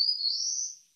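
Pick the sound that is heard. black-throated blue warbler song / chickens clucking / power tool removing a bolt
black-throated blue warbler song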